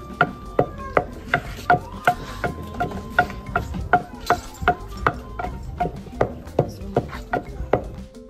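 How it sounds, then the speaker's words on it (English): Ehu (calabash nutmeg) pounded in a mortar while making abacha, the African salad, in a village: a steady run of about twenty sharp, evenly spaced thuds close by, each with a short ringing knock, and faint background activity between strikes. "What I'm pounding here is ehu"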